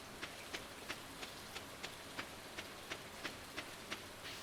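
Soft, steady rain falls in the Stardew Valley farming game, a faint even hiss broken by about a dozen light, evenly spaced ticks like drops or footsteps, with no voices.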